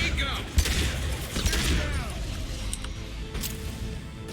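Submachine gun fire in Mass Effect 2, heard as scattered game gunshots and thumps within a busy combat mix, with speech and effects layered over it.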